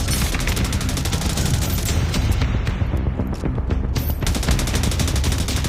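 Heavy, continuous gunfire from The Division Resurgence video game, with overlapping rapid bursts filling the whole stretch at loud, close range and only a brief dip in intensity partway through.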